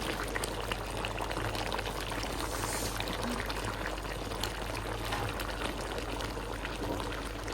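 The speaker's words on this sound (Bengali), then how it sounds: "এই গরম জলটা আমি দিয়ে দেবো চিকেনের মধ্যে" Hot water pours into a pot of chicken stew in one continuous, even rush lasting several seconds, close by, with no talking.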